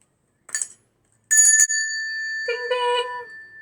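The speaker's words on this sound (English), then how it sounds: "Let's listen to the bell" A small bell strikes a few separate times, brief rings followed by a longer sustained ding with clear ringing overtones, close and fairly loud.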